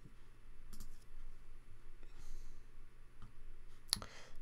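A computer mouse clicking in WordPress to save and publish, a few sharp close clicks spaced irregularly over a low steady room hum, no talking.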